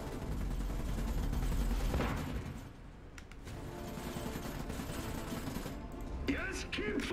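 Rapid bursts of gunfire and explosive battle sounds from the video game Iron Harvest, dense and loud at first, easing slightly, with a sharp blast near the end.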